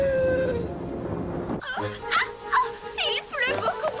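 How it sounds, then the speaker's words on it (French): Heavy rain and a rumble of thunder from an animated My Little Pony: Equestria Girls episode, dubbed in French, fill the first second and a half before a voice starts talking over a quieter background. "Il pleut beaucoup trop."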